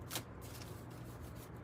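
Tarot cards are shuffled by hand, a soft, close riffling rustle with a brief sharper flutter near the start.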